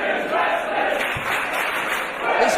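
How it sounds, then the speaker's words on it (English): Video-game wrestling crowd at a WCPW women's match between Nixon Newell and Bea Priestley in WWE 2K17, a steady roar of chanting and cheering from many voices filling the arena, continuous and fairly loud throughout. "This crowd chanting their approval for women's wrestling here in WCPW"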